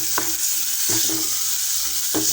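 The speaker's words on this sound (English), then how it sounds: "After adding my carrots, I give it a little stir." Carrots fry with a constant bright hiss in a pot for tilapia fish curry, while three distinct scraping stirs knock through the sizzle, close and without speech.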